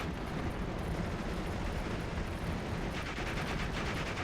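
Tank gunfire in the Steel Division World War II strategy game, with a Panzer III among the tanks trading shots, heard as a steady dense mix of rumbling blasts and gunfire with no talking.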